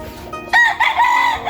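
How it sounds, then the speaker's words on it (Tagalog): A rooster crows once on a farm full of chickens, a loud nearby call that rises and holds for about a second after a short quiet start. "Itong mga manok dito"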